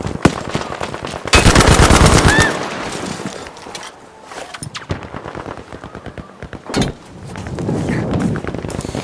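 A Sten submachine gun in the World War II shooter Battlefield V fires several loud, rapid automatic bursts close by, separated by quieter stretches of battlefield noise.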